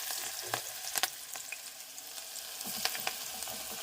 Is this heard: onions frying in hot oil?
yes